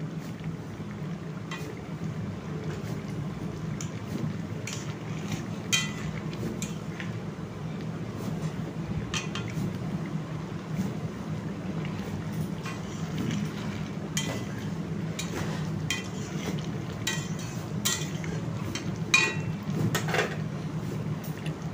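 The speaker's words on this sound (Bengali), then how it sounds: "এরপর কিছু আলুকে খুন্তি করে টিপে একটু ঘন করে নেব" A spatula presses and stirs boiled potatoes in a simmering potato and pointed gourd curry. Soft bubbling runs throughout, with scattered light metallic scrapes and taps against the pot.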